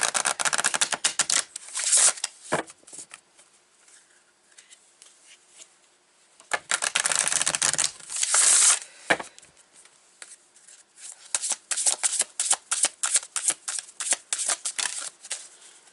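A deck of tarot cards is shuffled close up in several bursts of crisp riffling and rapid slapping, separated by short quiet pauses.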